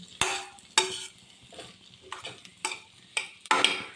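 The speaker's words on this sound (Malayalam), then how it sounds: "തേങ്ങ നന്നായിട്ട് ചൂടായിട്ടുണ്ട്" Grated coconut roasts in a pan as a spoon stirs it, producing several sharp scraping strokes against the metal over a faint dry crackle, close and with no voices.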